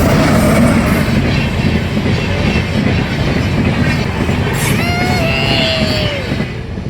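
A passenger train rushes past close by, a loud continuous rumble and rattle of wheels on track with a brief high wheel squeal near the end as the noise begins to fade.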